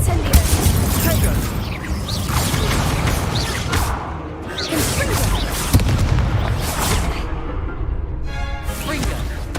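Spells are cast in the Hogwarts Legacy video game, including the Incendio fire spell, giving loud repeated booming bursts and whooshes over dense combat noise, with voices shouting throughout.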